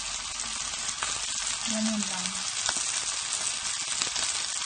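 Salmon fries in a small amount of olive oil, giving a steady, dense sizzle that runs throughout, close and even, with a brief spoken remark and a faint tonal sound partway through.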